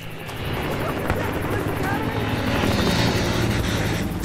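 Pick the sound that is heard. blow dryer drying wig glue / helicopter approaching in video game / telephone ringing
helicopter approaching in video game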